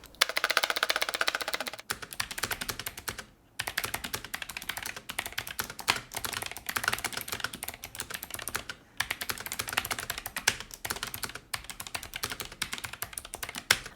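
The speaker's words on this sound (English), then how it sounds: "you slam the keys down when you're gaming or when you're typing those long essays" Rapid, continuous clatter of typing on an ASUS ROG Claymore II wireless gaming keyboard, close and crisp, with a few short pauses between bursts of keystrokes.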